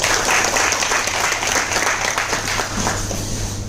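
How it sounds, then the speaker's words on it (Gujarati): An audience at a training session applauds loudly and steadily for several seconds, with dense, sustained clapping throughout. "ત્રણેય કરોડપતિ સર માટે એક જોરદાર તાળી દઈને છે"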